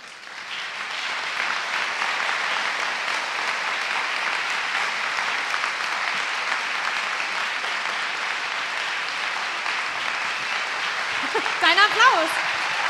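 Science slam audience applauding after a talk, a broad, sustained roar of clapping that stays even and loud throughout, with a brief whoop from one voice rising near the end.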